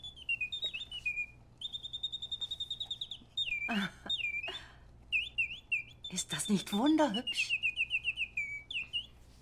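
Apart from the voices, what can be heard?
wind-up music box playing nightingale song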